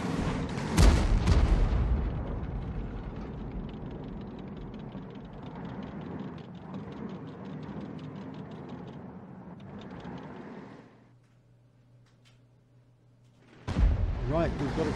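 Video game T92 HMC self-propelled 24 cm howitzer fires with a loud booming blast near the start, followed by a long rumbling roll and a quieter tail, then another sharp burst at the end; someone talks over it.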